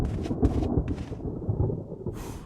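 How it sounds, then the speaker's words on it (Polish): Thunder rumbles and crashes through a stormy night in the Resident Evil Remake, with rain hissing steadily underneath and a loud, close roll that swells and fades. "Jedynie burza nas trochę straszy."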